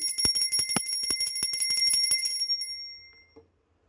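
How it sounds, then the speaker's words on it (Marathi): A hand bell rung during evening puja at a home shrine: fast, continuous bright ringing for about two and a half seconds, then a shimmering ring-out that fades to silence. "त्यानंतर घंटा वाजवायची।"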